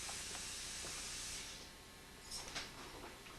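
A tap runs at a sink during dish washing, giving a faint, steady rush of water that swells slightly near the end, with no voices.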